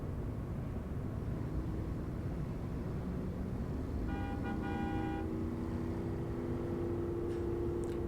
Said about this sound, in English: a bunch of car beeps